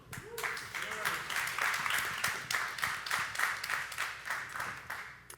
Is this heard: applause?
yes